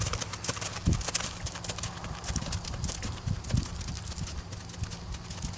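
A horse canters around a training maze, hooves clip-clopping in a steady, fairly close rhythm with a few heavier thuds, under a constant background hiss.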